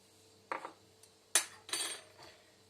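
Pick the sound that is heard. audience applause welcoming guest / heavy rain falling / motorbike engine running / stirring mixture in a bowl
stirring mixture in a bowl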